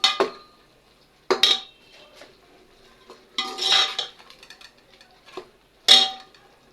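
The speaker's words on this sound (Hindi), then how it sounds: "मसाले को पहले अच्छे से हिला लें।" Spices being stirred in a cooking pan for daliya, giving several separate bursts of metallic scraping and clinking of a utensil against the pan, with quiet gaps between the strokes.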